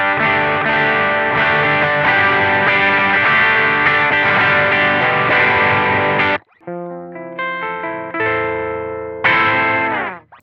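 An electric guitar, distorted and played through a BOSS FDR-1 Deluxe Reverb pedal with the treble turned up, rings out in loud, bright sustained chords, cuts off, then returns with shorter stabbed notes.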